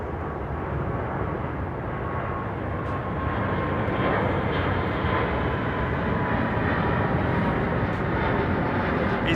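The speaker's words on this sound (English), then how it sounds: "This is our Virgin jet." A Virgin jet airliner at London Heathrow Airport, its engines giving a steady, loud broadband roar that holds throughout without pause.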